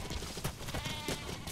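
Sheep bleating in Metal Gear Solid V: The Phantom Pain, several short wavering bleats close together over steady game ambience, fairly clear with no talk.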